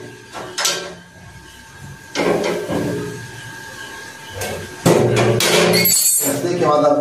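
A wrench tightening the footrest bolt on a scooter during a footrest bearing and rod repair, with bursts of close metallic clanks and clinks alongside a voice.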